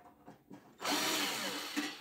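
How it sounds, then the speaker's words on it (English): A power drill backs Phillips screws out of a Black and Decker oven being scrapped: a few soft taps, then a loud, steady, close whirring that runs to the end. "I'm just going to unscrew all the Phillips first"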